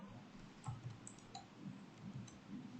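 A few soft, faint clicks of a computer mouse selecting a menu item, isolated and quiet against a low background hiss.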